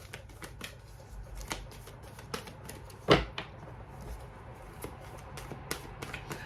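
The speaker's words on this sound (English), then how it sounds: "So as I'm shuffling" Tarot cards are shuffled by hand in a quiet room, soft riffling and tapping strokes with one sharper snap midway, close and moderately faint with no talk.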